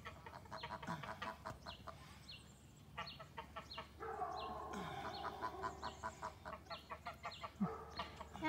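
Chickens cluck and chatter in short rhythmic bursts nearby, several birds overlapping, with a few louder squawks among them.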